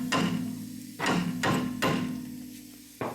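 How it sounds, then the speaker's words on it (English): Hammer tapping the rear strut out of a Hyundai Sonata's suspension, four sharp metallic knocks spaced about half a second apart, close by, with a low steady hum beneath. "if we tap the strut out, it should be able to come out."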